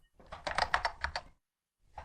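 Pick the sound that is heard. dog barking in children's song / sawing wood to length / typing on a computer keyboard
typing on a computer keyboard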